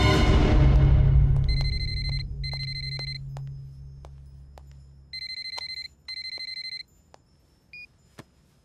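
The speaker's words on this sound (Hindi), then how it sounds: "हाँ परश, बोल फोन किस लिए किया था?" A telephone rings in a Hindi film set in Mumbai, two pairs of bright electronic trill bursts over a fading low drone, then a short pause and a faint final chirp, with no speech.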